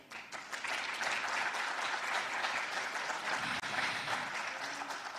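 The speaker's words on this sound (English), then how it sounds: "let's give another big round of applause to Deputy Prime Minister" Steady applause from a seminar audience honoring the Deputy Prime Minister, dense and continuous clapping filling the room without a break, easing slightly toward the end.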